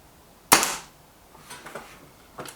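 A single sharp crack from a Kral NP-02 laminate air rifle, close and loud, followed by faint small knocks and rustles.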